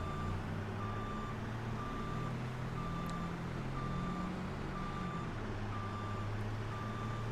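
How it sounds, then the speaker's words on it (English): Repeated reversing beeps from a truck in Farming Simulator 25, sounding as a steady evenly spaced series of about ten tones over continuous engine rumble, with no talking. "I left it in reverse and it's going to beep the whole way."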